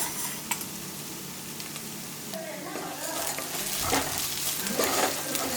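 Crushed dried red chilli sautéing with onions in oil for a mirchi chicken roast, a steady close sizzle with stirring clatter that gets busier toward the end.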